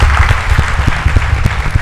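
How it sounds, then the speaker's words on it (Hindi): A church congregation claps together, a dense, steady burst of applause filling the whole moment at close, loud range. "तालियां बजाओ."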